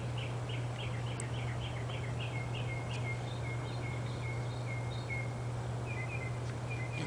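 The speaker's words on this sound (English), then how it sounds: "And listen to the birds chirp." Small birds chirp outdoors in quick, repeated high twittering bursts, fairly faint and distant, over a constant low hum and background hiss.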